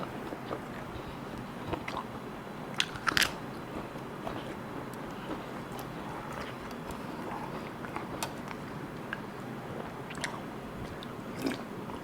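Someone eats koi, a spicy Isan minced salad, with steady close chewing and moist smacking, plus a few sharper crunchy bites; no talk.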